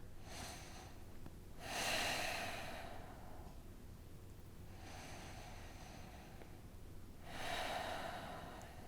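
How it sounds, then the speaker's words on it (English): Slow, deep breaths from a person holding a yoga stretch: two long, soft inhale-exhale swells rise and fade, close and quiet, with no talking. "Take 2 breaths here."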